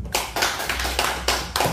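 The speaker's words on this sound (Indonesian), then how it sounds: "Kita tepuk tangan untuk Bapak Sek dulu." A small group at a community education discussion claps for the village secretary, a few loud, close claps in bursts against a low steady hum.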